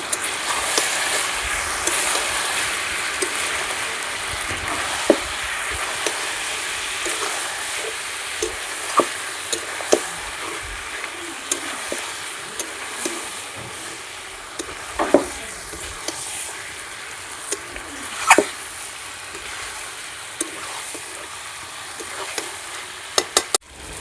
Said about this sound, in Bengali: এবারে সমস্ত মশলা মাংসের সঙ্গে ভালো করে কষিয়ে নেব।